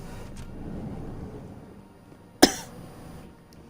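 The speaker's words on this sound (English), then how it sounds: "You sound like you have a cough, like I do." A single sharp cough in the video game Mass Effect stands out abruptly after a few seconds of low background hum, followed by quiet ambience.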